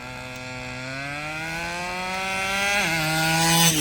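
A Baja RC car's gas engine revs steadily and climbs in pitch for nearly four seconds, with a brief dip and jump near the end as the two-speed transmission shifts into its higher gear, fairly loud and close, with no talking.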